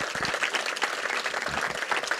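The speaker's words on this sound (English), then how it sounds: "Let's please give a one big round of applause to this wonderful person." Audience applause for an honoured guest at a gathering, a steady dense wash of clapping that holds evenly throughout at moderate loudness, with no voices rising above it.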